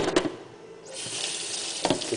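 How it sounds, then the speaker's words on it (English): Tap water rushes into a plastic brewing bucket as it is rinsed and spun, a steady close splashing stream after a brief quiet start, with a couple of knocks. "spin it around so that you're constantly rinsing out every side of the bucket"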